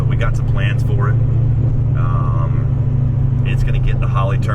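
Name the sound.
600HP Foxbody car engine rumbling while driving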